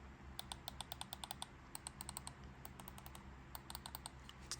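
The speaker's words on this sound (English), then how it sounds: "you got clicky buttons. Very quiet for clicky buttons for sure." Quiet, crisp clicks from the buttons of a Mojhon Storm budget game controller, pressed in quick irregular bursts of several taps, close up with no talking.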